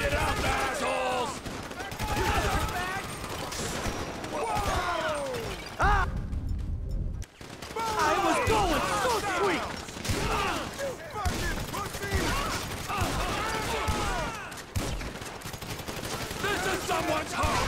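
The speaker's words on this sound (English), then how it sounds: "So I guess we shoot our way out of here." Sustained gunfire in a Grand Theft Auto V shootout against mercenaries, dense overlapping bursts and rattling shots across the whole stretch, with shouted voices layered over the combat and a brief lull partway through.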